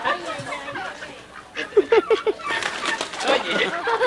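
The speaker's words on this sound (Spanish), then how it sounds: "Mira, ese pato está tan enojado, viste, te puede picar" An agitated duck on a ranch gives a quick series of loud, rasping quacks, close by, while people talk in Spanish around it.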